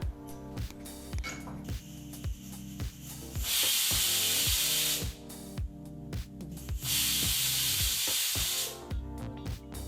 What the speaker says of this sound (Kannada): ಈಗ ಇಲ್ಲಿ ಕುಕ್ಕರ್ ಎರಡು ವಿಸಲ್ ಬಂದಾಯಿತು